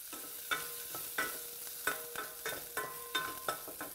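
Two chopped garlic cloves sauté in olive oil with a low sizzle, while a spoon stirs and taps against the pan in a regular rhythm of soft scrapes.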